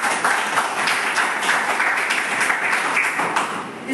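Enthusiastic applause from a seminar audience, a continuous clatter of many hands clapping at close range, filling the moment on its own.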